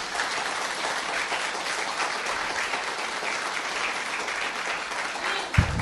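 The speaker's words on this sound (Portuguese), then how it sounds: "Vamos aplaudir a trajetória do Gabriel." An audience at an inclusion event applauds in a dense, continuous wash of clapping that holds steady throughout, with a brief thump near the end.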